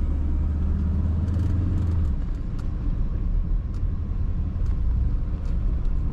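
A 1985 Jaguar XJ6 sedan engine hums steadily from inside the vehicle, with a low rumble that eases slightly as it rolls through a turn.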